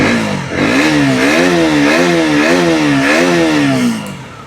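A 2019 KTM Duke 125 BS4 motorcycle idling with an irregular lumpy beat, its engine note rising and falling in gentle waves, loud and close, with a light clatter before it settles.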